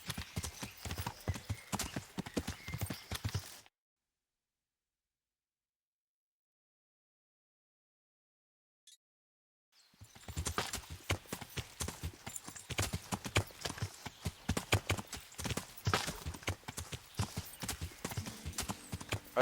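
Horse hooves clip-clopping steadily at a trot in Kingdom Come: Deliverance, running continuously, then cutting out to near silence for several seconds before the rhythmic hoofbeats resume, loud and close.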